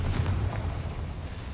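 A Confringo spell explodes in Hogwarts Legacy as a deep, loud boom that rolls on for well over a second, with a rumbling low end and a brief burst at the start.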